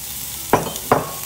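Shallot dropped into a preheated pan with olive oil gives two short bursts of sizzle about half a second apart, near and fairly soft, over a quiet background.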